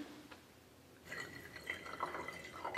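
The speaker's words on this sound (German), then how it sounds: "hier ein bisschen Wasser einzuschütten, etwa 2 cm hoch" Water poured into a container to a depth of about 2 cm for a simple weather experiment, a soft continuous trickle and splash starting after a second of quiet and running steadily to the end.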